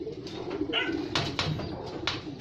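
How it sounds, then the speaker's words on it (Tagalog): Pigeons coo softly nearby in low, repeated murmurs, mixed with occasional rustling and brief fluttery noises. "Ayun o, mga kalapatid."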